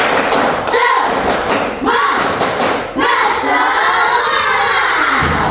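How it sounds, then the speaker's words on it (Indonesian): A classroom of children performs a rhythmic spirit clap, loud group claps and thumps landing in short bursts with crowd voices and children's shouts mixed in, filling the room continuously. "Sebelum itu Bapak akan tepuk semangat."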